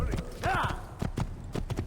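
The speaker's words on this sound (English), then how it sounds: "now we have a horse." Video game horse hooves clatter in a quick galloping rhythm, with a brief horse whinny near the start.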